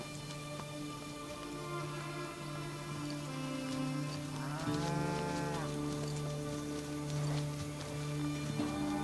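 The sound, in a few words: cattle mooing while herded through Pantanal wetland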